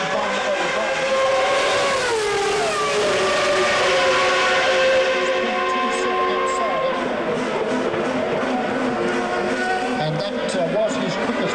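Formula 1 V10 race cars screaming along the front straight at the 1997 Australian Grand Prix, high harmonics sweeping in pitch as a car passes, engine wail continuous and loud under a commentator's voice.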